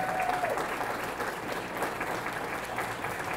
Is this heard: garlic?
no